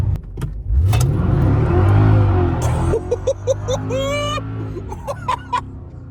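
A cheap Mercedes AMG car engine revs up loudly and close by, its pitch climbing as it accelerates, then settles into a steady drone with shifting tonal whines.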